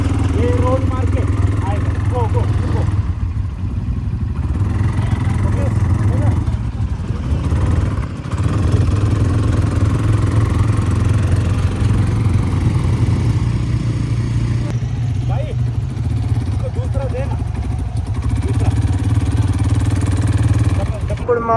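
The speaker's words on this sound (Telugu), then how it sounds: "అటు బైక్ అయితే డ్రైవ్ చేస్తున్నారు." A bike engine runs steadily through a desert safari ride in Dubai, a continuous low drone that stays close and loud throughout, with people talking over it.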